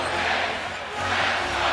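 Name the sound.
basketball arena crowd urging a run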